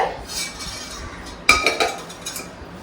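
Metal clink of a kadai wok set down on a home stove while preparing a Tamil chicken curry, one sharp clank near the middle followed by a few lighter clinks against quiet kitchen background.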